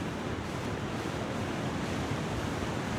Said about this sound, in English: Boy, this waterfall is loud as anything.